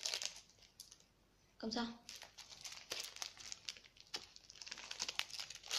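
A Halloween candy wrapper crinkles and crackles in repeated sharp bursts close by while someone struggles to tear it open, with people talking throughout.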